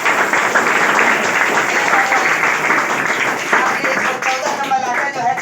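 An audience at a class 10 prize distribution in Kurtha claps loudly and steadily, a dense wash of applause lasting throughout with some voices mixed in.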